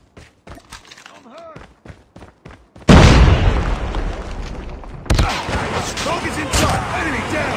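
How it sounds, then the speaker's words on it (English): A grenade blast in Call of Duty Mobile on the Nuketown map, with a loud booming detonation that breaks in after a spoken radio-style callout, followed by continuing gunfire and a second burst of explosive rumble. "Grenade out!"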